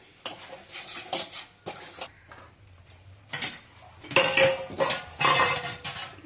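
A spatula scrapes and clinks against a pan in irregular bursts as bitter gourd is stirred, close and fairly loud.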